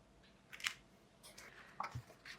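A few quiet snips of scissors cutting a small piece of paper for a travel scrapbook matchbox craft, two or three brief crisp cuts spaced apart with no talking.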